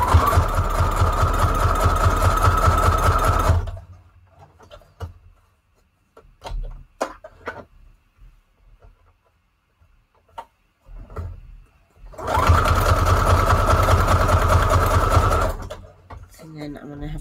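A sewing machine runs a zigzag stitch in two loud, steady bursts of rapid mechanical whirring and clatter, close by, separated by a quieter stretch of small handling clicks and brief talk.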